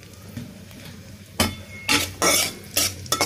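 Chopped onions go into hot oil for a hilsa fish bhuna and are stirred, giving a low sizzle broken by several loud scraping bursts of a utensil against the pan.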